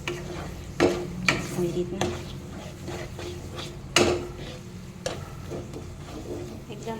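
Semolina barfi mixture with sugar syrup is stirred in a kadai over a low flame, giving repeated scraping strokes with a few sharper scrapes against the pan and a brief voice speaking.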